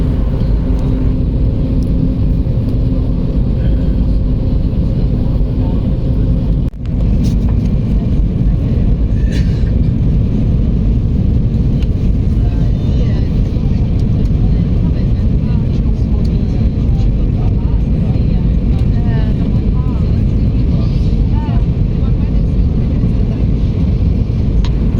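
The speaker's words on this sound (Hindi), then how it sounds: "विमान अब काफ़ी नीचे की तरफ धीरे धीरे आने लगा है" Steady broadband roar of a passenger airliner cabin during descent toward Delhi on a Varanasi–Delhi flight, a constant loud engine drone with no pauses and one brief click partway through.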